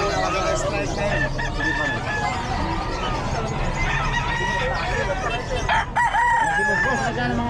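Roosters crow repeatedly and hens cluck at a crowded Philippine fowl sale in Bocaue, loud and close, with people talking and bargaining throughout.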